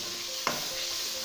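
Green chillies being stirred into a sizzling egg and onion masala, giving a steady frying hiss with a single sharp scrape of the spoon near the middle.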